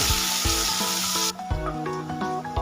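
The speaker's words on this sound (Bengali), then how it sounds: "পেঁয়াজটা লাল করে ভেজে নেব" Chopped onion frying in hot oil in a pan with spices, a steady close sizzle and crackle that drops a little halfway, with clinks of a utensil against the pan and no talking.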